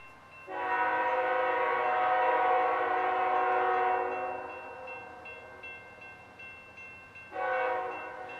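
A loud, sustained multi-tone horn from a CSX SD50-2 freight locomotive blares for several seconds, fades, then sounds again in a shorter blast.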